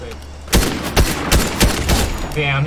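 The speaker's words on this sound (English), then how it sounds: "Oh, somebody else is shooting at me." Video game gunfire: a rapid string of about six sharp, loud shots in an uneven burst, each cracking out clearly with brief gaps between them.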